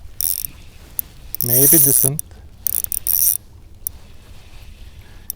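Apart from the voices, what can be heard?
fishing reel drag clicking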